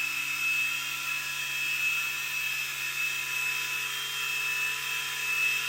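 Blade mCX remote control helicopter flies nearby with a constant, high-pitched rotor and motor whine, steady and fairly loud throughout, with no one speaking.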